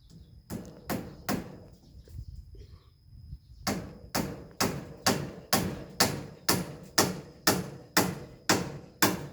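A hammer drives something in with steady, sharp blows, a few scattered strikes, a short pause, then about a dozen evenly spaced hits in a firm, regular rhythm.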